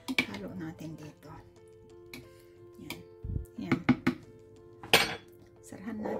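A spoon stirs aloe vera gel with a spoonful of castor oil in a small container, giving scattered clinks and scrapes under a voice talking throughout.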